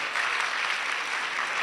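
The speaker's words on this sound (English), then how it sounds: "Thank you for clapping" An audience at a school quiz finale claps, with a brief, even wash of applause at moderate distance.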